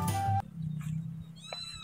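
A kitten meows in a rural rice-field setting, giving a couple of thin, high, close cries, the clearest one near the end, following a loud low burst at the start.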